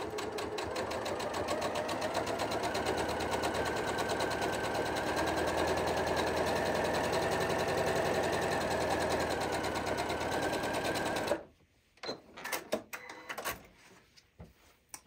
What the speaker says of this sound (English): I'm going to stitch from this corner all the way to the other corner, following along down my line